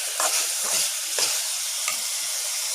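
Goat liver with ground pepper sizzles and fries steadily in a pan, close and continuous, with occasional scraping stir strokes and soft clicks; no talking.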